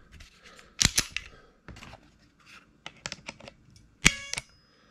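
A compact Ruger or Kahr .380 pistol's trigger is pulled on a pull-weight gauge, producing sharp, close mechanical clicks in scattered bursts, with a bright snap of the hammer falling near the end.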